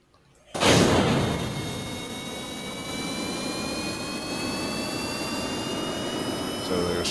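Four small jet engines on a starter plane in Kerbal Space Program spool up abruptly after a brief silence, then hold a loud steady roar with a rising whine.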